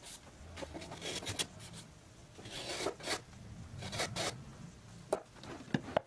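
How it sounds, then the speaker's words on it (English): Spokeshave cleaning up lines on wooden patterns at a workbench, a series of short, quiet rasping strokes in irregular bursts with gaps between them. "start cleaning up the lines with a spokeshave"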